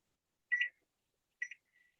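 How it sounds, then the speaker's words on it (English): A kitchen timer gives two short, faint electronic beeps about a second apart, followed by a softer trailing chirp, in an otherwise quiet kitchen. "Kitchen timer."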